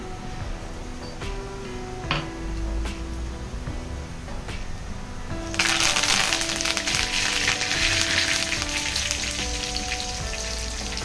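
Cumin, ajwain, black pepper and curry leaves frying in hot oil in a kadhai, a steady crackling sizzle that grows sharply louder and denser partway through as the spices hit the oil.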